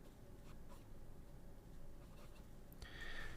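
A Pelikan fountain pen with a springy 18 karat nib scratches softly across paper in quiet, close strokes, faint throughout and ending in a slightly louder rustle.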